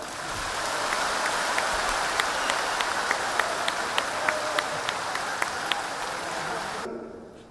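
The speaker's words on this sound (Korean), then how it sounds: "여기 박수 한번 주시죠" An indoor audience at a Vietnam War veterans' memorial ceremony in a Seoul gymnasium applauds steadily for about seven seconds, dense clapping with a few sharper claps, then stops abruptly.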